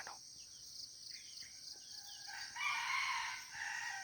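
A native rooster crows from a distance, rising and stretching out toward the end, over a steady high whine of insects.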